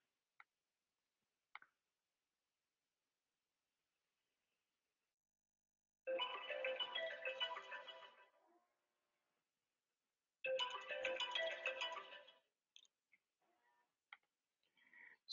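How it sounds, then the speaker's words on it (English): A mobile phone rings in two bursts of warbling electronic tone, each about two seconds long, with a short silence between. Scattered faint clicks surround the rings. "sorry, my phone was ringing"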